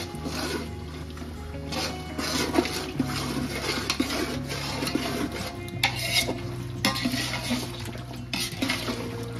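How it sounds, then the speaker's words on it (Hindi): Continuous stirring and scraping of frying mutton with ginger-garlic paste in a pan over a steady sizzle, with occasional clinks of a utensil against metal, close by and without speech. "अदरक लहसुन डालकर अच्छी तरीके से इसको मिक्स कर देंगे"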